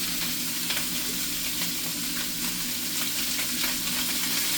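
Cauliflower rice with sausage stir-frying in oil, a dense, continuous close sizzle with faint stirring scrapes throughout, no speech.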